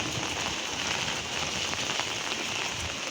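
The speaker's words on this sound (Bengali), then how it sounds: "দেখতেই পাচ্ছেন কত বৃষ্টি, অনেক বৃষ্টি।" Heavy rain pours down in a dense, steady patter on surfaces, a constant close hiss with scattered louder drops and no voices, unbroken throughout.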